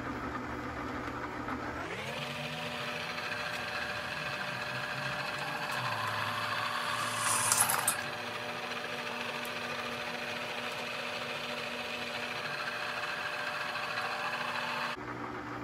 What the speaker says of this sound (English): It's always good to use a little oil when you're drilling through steel too.